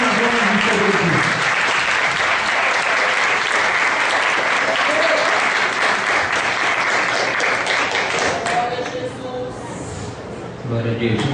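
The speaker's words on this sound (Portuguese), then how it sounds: "Aplauda o Senhor nessa noite, porque Ele é digno de toda a honra" A church congregation applauds during an evening worship service, sustained clapping filling the room for several seconds and tapering slightly toward the end.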